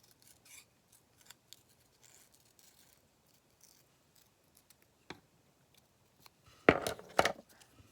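Scissors snip paper for a postcard collage in a series of sparse, quiet, close cuts, ending with a couple of louder crisp snips.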